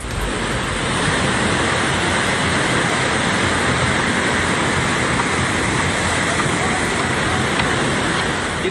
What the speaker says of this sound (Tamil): வடக்கு சுமத்ரா தீவு பகுதியில் உள்ள ஹூட்டோ நபோலோன் பகுதியில் சேரும் சகதியுமாக வெள்ளம் பெருக்கெடுத்து ஓடுகிறது